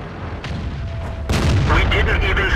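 A Type 59 tank's cannon fires in World of Tanks on the Lakeville map, one heavy boom that rolls into a sustained rumble over steady engine drone, with a voice speaking.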